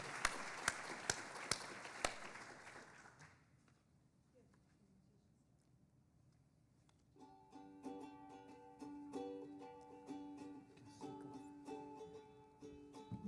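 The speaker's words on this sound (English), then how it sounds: "One last round of applause." Audience applause at a university graduate student orientation: a burst of claps fills the first few seconds, thins out and fades to near silence, and music then comes in.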